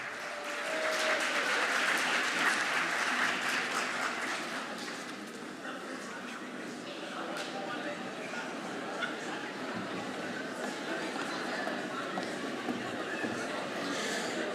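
Audience applause at a communications studies speech competition, a broad steady wash of clapping that peaks early and then holds at a slightly lower level for the rest, with no voices over it.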